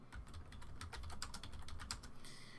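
Code typed on a computer keyboard, a fast, close run of crisp key clicks with uneven rhythm and a few heavier strokes, steady throughout with no talking.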